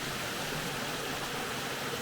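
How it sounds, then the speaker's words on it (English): Waterfall on a wilderness trail at Delaps Cove rushing beneath a viewing platform, a constant broadband roar, close and loud with no voices. "this is so cool to stand like on top of a waterfall"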